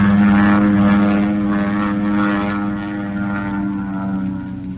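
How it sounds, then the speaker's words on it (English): A Mitsubishi warplane flies overhead, a loud droning propeller engine hum with a steady pitch that slowly eases off as it passes, with no talk. "That's no plane of ours. That's a Mitsubishi if I ever saw one."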